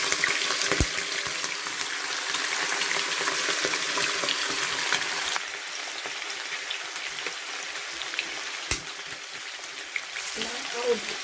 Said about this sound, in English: So now I will start by frying my crayfish.